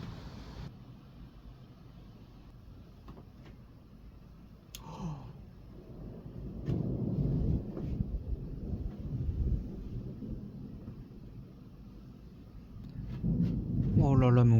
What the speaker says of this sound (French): on va se faire engloutir par l'orage